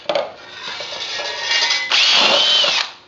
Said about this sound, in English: I'm just going to drill a couple more holes at the top and the bottom.